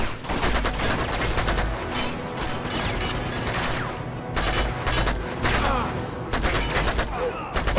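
Rapid bursts of gunfire from the video game Uncharted 2: Among Thieves, dense overlapping shots and loud repeated volleys filling the whole stretch, with a voice shouting faintly underneath.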